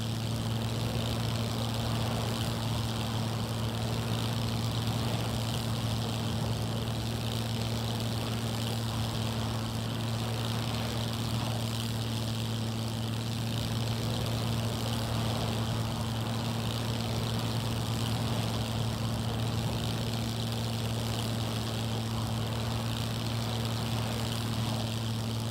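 Steady propeller airplane engine drone in the video game Scum, a continuous loud hum with strong low tones holding unchanged throughout, no talking over it.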